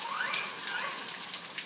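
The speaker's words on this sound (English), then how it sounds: "It's actually raining hard, so it's pretty cool." Heavy rain falling hard outdoors during an RC car run with a Traxxas Slash VXL, a steady broad hiss of dense drops filling the short stretch without speech.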